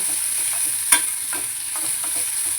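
Onions go into a pan with curry leaves for anchovy puttu and sauté in a steady sizzle, with a single sharp clunk early on, then soft scraping stirs and no voices.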